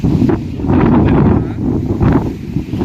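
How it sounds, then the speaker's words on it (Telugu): Strong wind buffeting the microphone in steady, roaring gusts, with no voices, in Anakapalli (Chodavaram), Andhra Pradesh. "ఫుల్ గాలి కూడా వేయడం జరుగుతుంది"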